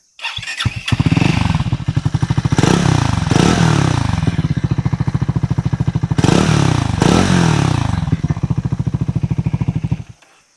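A 2026 Triumph Tracker 400 motorcycle engine cranks and fires up, then idles with a loud, thumping exhaust beat that blips a few times before cutting off.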